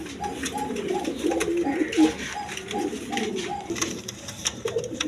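A pair of pigeons at a seller's stall coo in a steady run of soft, repeated low calls close by, with faint background noise and chatter.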